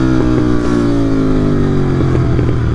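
Royal Enfield GT650 twin-cylinder engine droning steadily while being ridden, a loud close continuous hum with slowly falling pitch and faint mechanical clatter, no talk.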